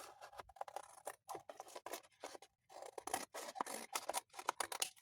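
Scissors snip through junk-mail board to make tags, close and crisp, with quick bursts of cutting strokes separated by short pauses and no voices.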